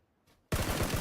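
Automatic gunfire erupts in PUBG after a near-silent moment, a loud, dense burst of rapid shots rattling on without pause.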